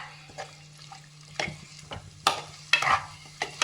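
Ingredients for mutton biryani, including ripe tomatoes, being sautéed in a pot, irregular clanking spoon stirs and scrapes over a faint sizzle, close by and fairly quiet, with no talking.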